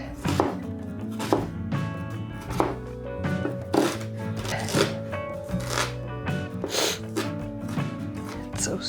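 Red onions being chopped into small cubes on a cutting board, a quick series of sharp knife taps at an uneven rhythm, close and clear, with light kitchen sounds in between.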